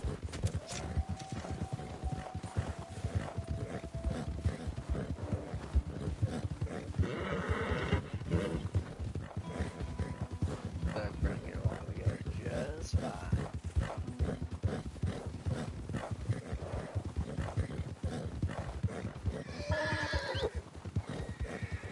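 A horse in Red Dead Redemption 2 neighs and whinnies while its hooves clip-clop in a fast, steady rhythm, loud and close, with a voice speaking now and then over the riding.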